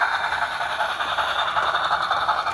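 Steady rolling clatter and rattle of a model Western Pacific 4-8-4 steam locomotive on a speed run at around 70 scale miles per hour, a continuous close whir with no talk.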